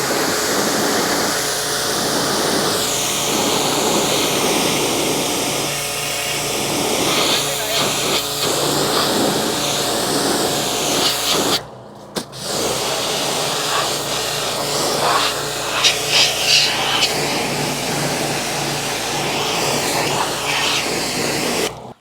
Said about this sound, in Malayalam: നമ്മൾ ബോഡിയിലേക്ക് വെള്ളം അടിക്കുന്ന ഒരു സ്റ്റെപ്പാണ്